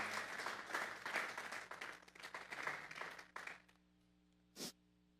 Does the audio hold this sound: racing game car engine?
no